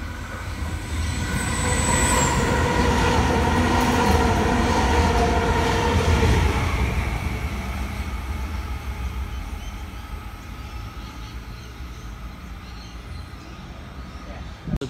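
A train rumbles loudly past on the tracks at a station platform, a brief high squeal early on, its roar slowly fading as it moves away.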